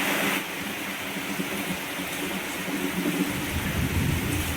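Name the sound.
heavy rain with thunder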